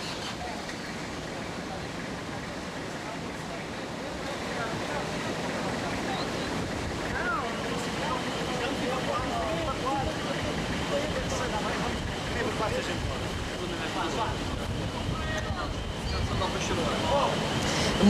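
Storm floodwater rushes through Funchal, Madeira, as a constant broad roar like heavy surf, swelling slightly over time, with wind buffeting the microphone and faint voices of onlookers nearby.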